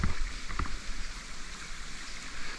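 Water from a high waterfall plunging down onto rock, a steady broadband rush and splash with a couple of brief knocks near the start, moderately loud and continuous.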